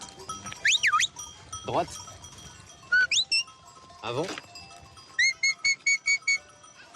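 A flock of ewes bleats near a village in southern France, with shepherd whistle signals, a faint bell and a few spoken French commands.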